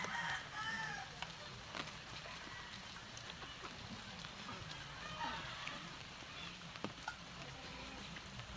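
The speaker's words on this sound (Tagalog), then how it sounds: "Native nga manok." Native Filipino chickens cluck and a rooster crows faintly outdoors over a steady patter of rain, with occasional voices in the background.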